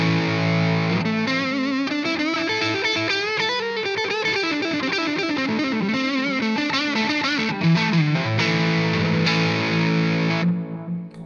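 Distorted electric guitar through Xotic AC and RC booster pedals combined, playing a bending melodic lead over sustained chords, thick and loud, ending with a ringing chord.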